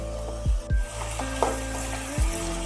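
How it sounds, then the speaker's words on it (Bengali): Potatoes frying in a pan with salt, stirred with a few knocking scrapes of a utensil against the pan over a soft steady sizzle. "লবণ দিয়ে একটু নাড়িয়ে চাড়িয়ে দিচ্ছি আলুটা যাতে তাড়াতাড়ি একটু নরম হয়ে যায়"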